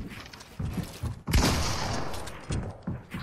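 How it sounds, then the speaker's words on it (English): A console shooter game gives one sharp, loud gunshot burst with crackling debris and a short ringing tail, framed by soft game thumps and a few quieter clicks. "I shot the floor."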